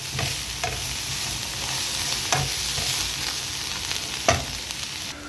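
Curry leaves and onion tempering fry in a pan with a steady, dense sizzle, while a few sharp stirring clacks break through near the start, middle and end.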